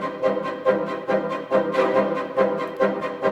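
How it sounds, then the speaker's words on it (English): Layered orchestral strings from the Symphobia 4: Pandora library play repeating pulsing ostinatos, with steady rhythmic accents recurring about every half second at a moderate, even level, purely instrumental with no talking. "Then we got some string stuff going on in the green. A lot of pulses, a lot of ostinatos."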